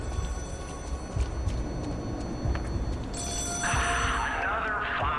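An old-style telephone rings in the video game Lies of P, a trilling bell that grows louder and brighter partway through over a low rumbling game ambience.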